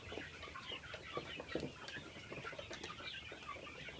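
Chickens, one of them sick, cluck softly inside a coop, with scattered overlapping clucks and small rustles that stay faint and fairly distant.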